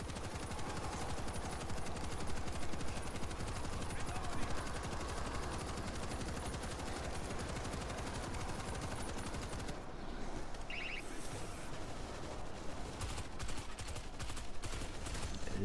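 Nonstop rapid bullpup rifle fire in World War Z, loud and dense the whole time, with the automatic bursts growing choppier and more broken up in the last few seconds.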